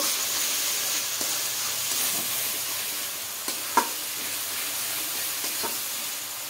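Masala being stirred in a pan with a little sugar for spicy yogurt chicken, a steady sizzling hiss throughout with a few sharp scrapes and one clear knock of the spoon.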